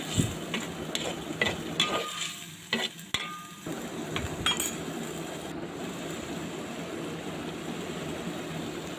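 Small mola fish being cooked down as a bhuna in a pan with a little added water: a steady close sizzle broken by sharp clinks and scrapes of a utensil in the first few seconds.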